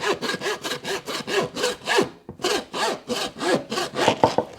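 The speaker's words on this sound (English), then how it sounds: "so a little bit of hacksaw" A hacksaw cuts through the spine of a whole lamb during butchery, with loud, close, rhythmic back-and-forth strokes, around a dozen in quick succession with a short pause midway, and no talk.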